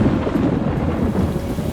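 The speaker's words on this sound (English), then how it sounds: "Then it did start raining," Heavy rain and low rumbling thunder roll continuously during a thunderstorm at sea aboard a rocking boat, loud and dense with no pauses.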